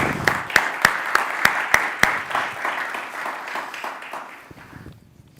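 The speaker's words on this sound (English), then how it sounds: "Let's extend them a warm welcome and resound round of applause." A conference audience claps to welcome a panel of speakers, a fairly full burst of applause with a few sharp individual claps at first, fading out over several seconds.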